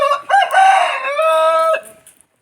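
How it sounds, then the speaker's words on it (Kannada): A rooster crows once outdoors, close and loud: a long, strained, harmonic call that rises, holds, then trails off. No one talks over it. "ಹುಂಜಣ್ಣ ಮೀನು ಸಾರನ್ನು ಟೇಸ್ಟ್ ನೋಡೋದಕ್ಕೆ ಬಂದಾನೆ"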